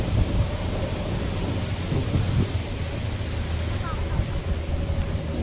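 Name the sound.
strong wind by the Dupinga River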